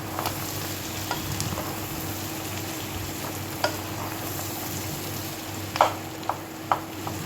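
Fish roe being stirred in a pan for a Bengali dish, a low continuous sizzle with a few sharp spatula scrapes and taps against the pan, close and fairly quiet.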